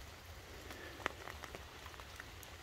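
Relentless rain on a wet hiking trail with corduroy log walkways, a steady, faint patter with scattered close drips and no voices.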